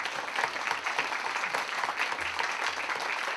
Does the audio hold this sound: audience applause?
yes